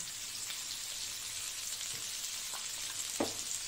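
Food frying in a pan with salt and peas, a quiet even sizzle like light rain, punctuated by a few soft stirring taps, one more distinct near the end.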